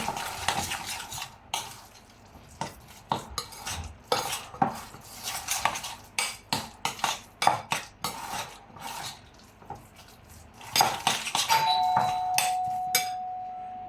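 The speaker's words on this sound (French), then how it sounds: "Voilà, on mélange le tout." A spoon clinks and scrapes repeatedly against a bowl while tuna rillette with mayonnaise is mixed. The strokes form an uneven rhythm up close, ending with a brief ringing tone.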